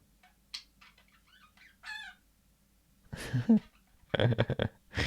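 A pet budgie makes odd chirps and warbling squawks in short bursts, with a louder, harsher run of calls toward the end, heard close up with no talk.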